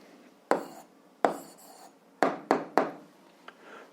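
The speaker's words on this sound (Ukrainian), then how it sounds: "Ну що ж, записуємо відповідь." Pen on paper while writing out a 7th-grade algebra answer: five or six sharp, close strokes and taps spaced irregularly, each fading quickly into quiet room tone.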